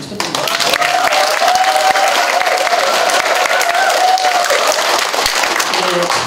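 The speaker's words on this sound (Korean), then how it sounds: "동장님한테 큰 박수 한번 쳐드립니다" Loud, dense applause from an audience at a town hall meeting, given for a former neighborhood chief, rises quickly and holds steady before tapering slightly, with a faint voice underneath.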